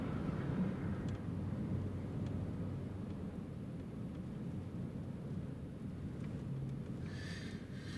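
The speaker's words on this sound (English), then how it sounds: "There she is, a Ryanair from Faro," A Ryanair plane from Faro, Portugal, approaching Newcastle Airport in Storm Eowyn winds, a low continuous engine roar mixed with gusty wind buffeting, steady and fairly distant.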